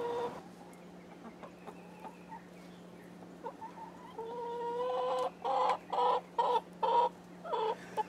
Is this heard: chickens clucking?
yes